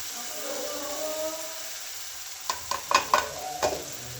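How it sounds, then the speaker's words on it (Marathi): Masala paste frying in hot oil for fish curry, a steady sizzle joined partway through by a few scraping stirs of a spoon in the pan. "तेल सुटेपर्यंत परतून घेऊया."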